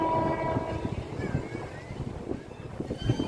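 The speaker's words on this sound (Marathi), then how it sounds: "इकडे समोर बघताय ट्रेन आलेली" A train rumbles in near the Vaitarna river at dusk, its steady low roar and rattle carrying on with a faint horn-like tone early on, moderately distant and fairly quiet.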